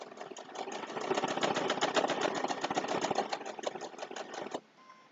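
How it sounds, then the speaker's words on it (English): A Baby Lock sewing machine runs steadily through thick fabric layers for a two-fabric potholder, a fast, even mechanical whir with rapid stitch ticks for several seconds before stopping abruptly, leaving only faint room noise. "the baby lock is pretty good about stitching through thick things"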